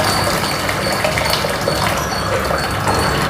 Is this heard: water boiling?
yes